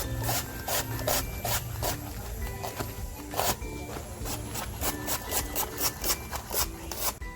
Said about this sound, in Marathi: आता हा कांदा आहे ना असं मस्त बारीक कापून घ्यायचं आहे बारीक म्हणजे पातळ साय स्लाईजमध्ये